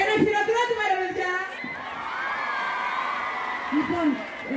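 A concert crowd whoops and shouts in bursts, then settles into a sustained wash of cheering and clapping before fresh yells rise near the end.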